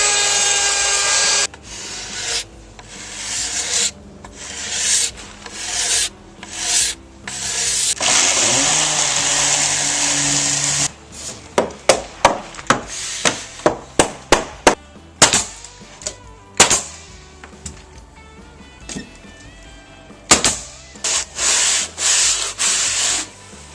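A router with a round-over bit shapes the nosing on an old wooden stair tread, a loud sustained high whine broken by gaps and then a run of sharp bursts as the cut stops and starts, with no talk.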